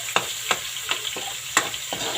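Pieces of bangus (milkfish) frying in a pan, a hissing sizzle punctuated by six sharp spattering pops at irregular intervals, close and fairly loud.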